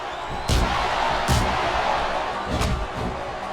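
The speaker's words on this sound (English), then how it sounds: "Now the fans start to cheer for him" An arena crowd in the wrestling game WWE SmackDown vs Raw 2008 roars as a steady wash of cheering, with a few louder impact-like bursts rising over it.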